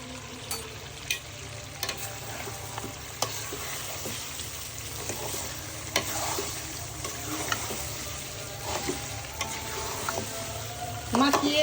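Beef with onion frying in a pan for a beef and potato curry, a constant close sizzle with repeated spatula scrapes and clanks through the whole stretch, getting louder at the very end.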